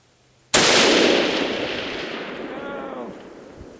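A Savage Axis 22-250 rifle fires a single loud, sharp shot on an open hilltop. The report cuts in abruptly and a long rolling echo trails away over several seconds.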